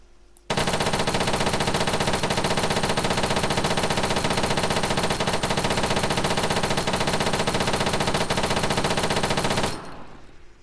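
Sustained automatic rifle fire in the video game Arma 3, one long unbroken burst of rapid, loud shots lasting about nine seconds before cutting off, with no talking.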